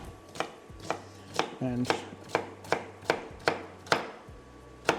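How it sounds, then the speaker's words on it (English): Knife chopping broccoli on a cutting board: about ten crisp, evenly spaced chops close up, with brief faint background sounds between the strikes. "Cut this into quarters"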